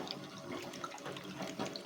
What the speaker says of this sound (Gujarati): એ પાણીમાંથી નિતારી આ રીતે તપેલામાં સમાય એટલી એડ કરી દેશું